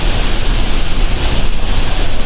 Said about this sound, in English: we are behind the waterfall here at Niagara Falls.